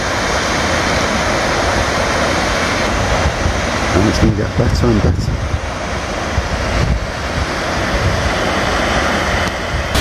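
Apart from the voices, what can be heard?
waterfall, water dropping down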